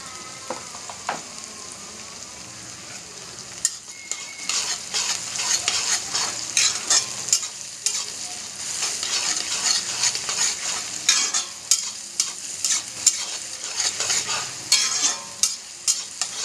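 Onions frying with salt in a pan as the base for a chicken gravy: a steady close sizzle with repeated scraping stir strokes, growing busier after the first few seconds, with no talking.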